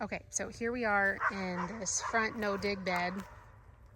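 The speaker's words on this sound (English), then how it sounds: "you can hear my dog barking" A person talks while a dog barks and yips in the background, the barks mixing in with the voice.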